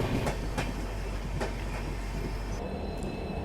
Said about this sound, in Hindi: ट्रेन जो है वो पहुंच रही है अरुणाचल जंक्शन रेलवे स्टेशन।